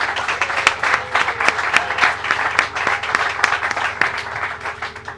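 An audience applauds village mayors at a gathering with the governor: dense, sustained clapping from many hands fills the room at steady volume, with no speech.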